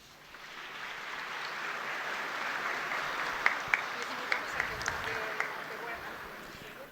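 Audience applause at a labor federation ceremony, a sustained broad wash of clapping from a large hall crowd with a few sharper claps standing out, holding steady for several seconds.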